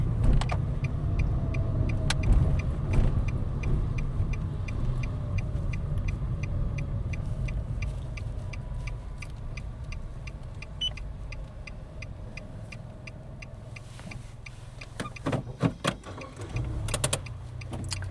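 A car pulls in and comes to a stop at the left side of a road during a driving lesson, its low engine rumble steady and close, with a run of faint ticking and a few soft knocks near the end.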